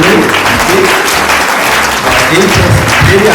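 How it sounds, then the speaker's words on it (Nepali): Wedding guests clap together in a loud, dense burst of applause that lasts throughout, with talk mixed in over the clapping. "हामी ताली बजाउँदै"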